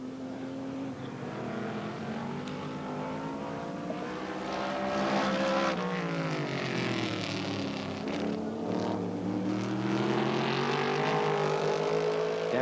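1978 sports sedan race cars lap Baskerville circuit during an Australian Sports Sedan Championship round, their engines droning loudly and rising and falling in pitch as the cars close up and pass.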